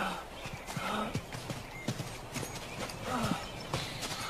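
Several horses' hooves clip-clop in a quick, uneven rhythm on hard ground in a 1989 Western series, with an occasional whinny. The hoofbeats sit fairly close and carry on steadily throughout.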